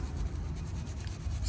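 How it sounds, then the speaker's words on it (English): A brush scrubs the front brake caliper bracket of a 2012-2019 Volkswagen Passat at the pad seats, a close, quick rasping rub repeated in short strokes with no talking. "I'm just gonna kind of scrub it a little bit where the brake pads"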